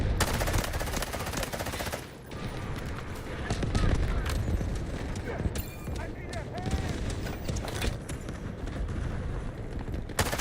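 Artillery barrage and dense gunfire in the video game Delta Force, a loud continuous clatter of shots and booms with short bursts packed tightly together throughout, close and busy.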